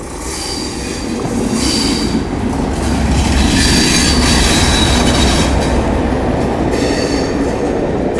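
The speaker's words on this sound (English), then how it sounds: "next train to make an appearance will be that train from Derby" A Class 37 diesel locomotive hauls a train through Newport station, a loud, sustained rumble of engine and rolling wheels with squealing and rhythmic clatter from the rails as it passes close by.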